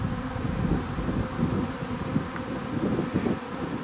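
A honeybee swarm buzzes in a dense, continuous drone, close and fairly loud, with a little wind rumble underneath.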